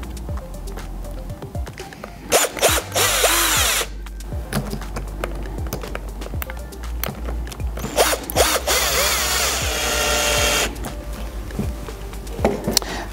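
A power screwdriver drives screws into the casing of a J+J J4CS multi-voltage electric actuator, producing a couple of loud, close whirring bursts with clicks and handling noise between them.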